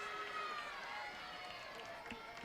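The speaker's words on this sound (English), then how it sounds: "Start to hear some more energy from the Wolverines crowd." Michigan Wolverines fans cheering at a home college softball game against UCLA, a steady broad crowd roar that holds throughout, with faint talk mixed underneath.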